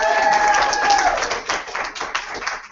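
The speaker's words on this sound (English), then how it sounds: "Give Tina a round of applause" Audience applause and cheering at a motivational evening event, a dense wash of clapping that starts loud and thins slightly toward the end, with a few voices mixed in.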